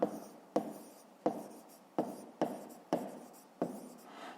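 A pen writing on paper during a math exercise, with seven distinct, close scratchy strokes, each starting with a sharp attack and fading, at a quiet level with no talking.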